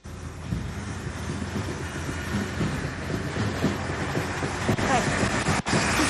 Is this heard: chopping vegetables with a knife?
no